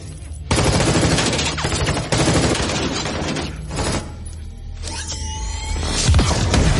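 Dense movie gunfire rattles through a shootout in an abandoned building, loud rapid bursts of automatic shots with mechanical clatter and a rising, ringing tail near the end.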